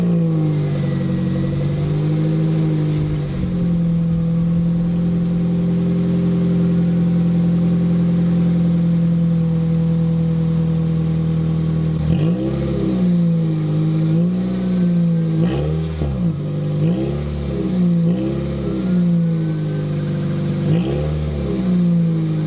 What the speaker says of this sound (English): let's go ahead and hear what this car sounds like with no muffler